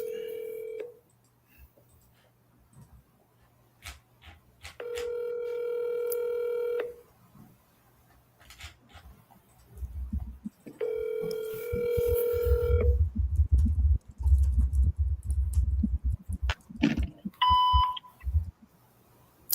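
Telephone DTMF dialing tones during a live phone call, several sustained tone bursts separated by pauses, then handling noise and a few short beeps near the end.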